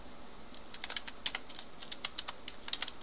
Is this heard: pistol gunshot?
no